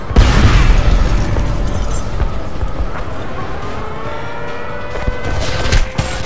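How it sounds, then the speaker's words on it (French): A grenade detonates in the video game Homefront, a loud boom with rumbling low end at the start, followed by sustained battle noise, scattered bursts and a faint siren-like tone through the rest. "Jetez une grenade là-dedans. Faites gaffe, grenade!"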